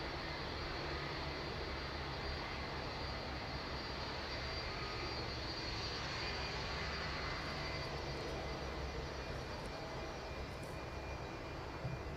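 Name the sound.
aircraft taxiing at East Midlands Airport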